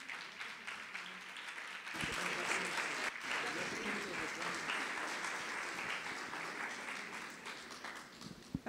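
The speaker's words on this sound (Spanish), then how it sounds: "le damos un aplauso a Dios y al pastor de bienvenida" Church audience applauding in welcome for a pastor, sustained dense clapping from about two seconds onward, fairly distant and steady, with a brief dip near three seconds.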